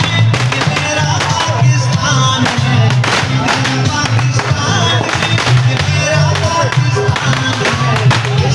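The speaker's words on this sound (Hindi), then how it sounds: "अभी इन्होंने बारी बारी पटाखे फाड़ रहे" Firecrackers burst at an Independence Day celebration, a dense, loud run of sharp cracks and pops in rapid, uneven succession over a constant crowd roar.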